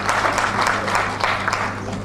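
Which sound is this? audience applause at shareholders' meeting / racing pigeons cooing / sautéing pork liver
audience applause at shareholders' meeting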